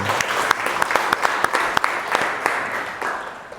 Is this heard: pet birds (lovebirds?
no